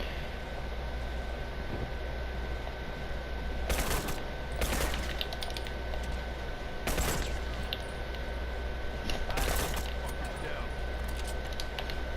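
Teammates open fire in The Last of Us Factions: four loud bursts of gunfire ring out over a constant game background hum, with one person talking throughout.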